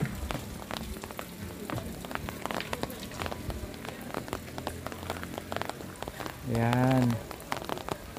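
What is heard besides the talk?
light rain drizzle falling outdoors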